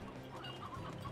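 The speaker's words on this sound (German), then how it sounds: "Und alter Gockel, ganz viele bemalte Hühner." Chickens cluck in the Slime Rancher video game, a quick run of soft, close clucks over a steady game background hum.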